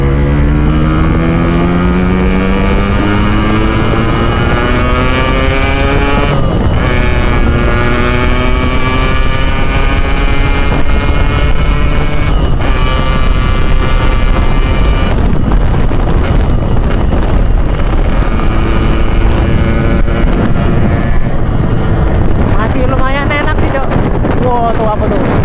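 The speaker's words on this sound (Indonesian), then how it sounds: "Suaranya berisik banget nih, coba kita gaspol ya" United MX two-stroke motorcycle revving hard at full throttle, a loud buzzing engine note climbing through gears with rising pitch sweeps, heavy wind rush over the microphone throughout.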